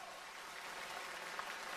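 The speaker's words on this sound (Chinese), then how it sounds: "我们上海的观众是不是多给他一点鼓励的掌声" Audience applause of encouragement for a young performer at a Yue opera contest in Shanghai: a steady wash of many hands clapping in a large hall, even and fairly distant, for about two seconds.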